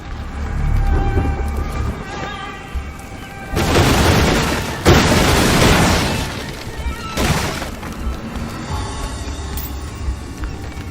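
In the video game Graven, an Inflame spell sets off a chain reaction of destruction: loud crashing and shattering bursts with booming impacts and creaking debris, rising and falling in waves over several seconds.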